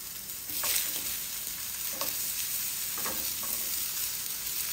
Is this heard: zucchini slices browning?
yes